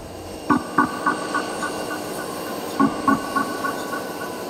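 Train wagons roll along the rails with a steady rumble and rhythmic clickety-clack beats in two clusters of wheel knocks, fairly close.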